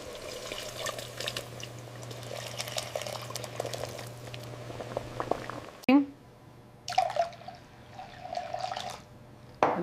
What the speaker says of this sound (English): Adding fresh water for our broth.